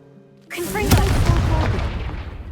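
A Confringo explosive spell blast in Hogwarts Legacy, a loud sudden boom after a brief quiet lead-in, followed by a rumbling, crackling decay that lingers for about two seconds.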